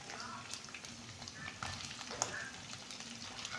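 Onion, ginger and garlic frying in a pan for country chicken sambar, a soft, continuous sizzle with occasional faint stirring scrapes, quiet and close.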